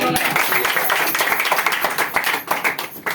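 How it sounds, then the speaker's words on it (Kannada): A church congregation clapping their hands in steady rapid rhythm at a worship service, loud and close, with voices mixed in underneath. "ಚಪ್ಪಾಳೆ ತಾಳಿ"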